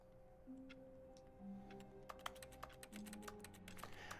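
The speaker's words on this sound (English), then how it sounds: "I love how whenever I press a button, it sounds like I'm typing." Soft clicky button presses in The Stanley Parable sound like computer keyboard typing, arriving as scattered taps that grow denser toward the end over a low, steady background hum.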